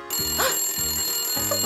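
Indoors at a slime school escape-room game, a telephone bell rings in loud repeated bursts with short gaps between them, and a person says a couple of words over it.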